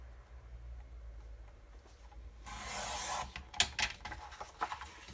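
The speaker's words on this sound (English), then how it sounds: "So let's trim it down here." A printed DIY planner sticker sheet is trimmed with a paper trimmer or blade, giving a close, scratchy slicing rasp that starts abruptly and ends in a few sharp ticks and rustles.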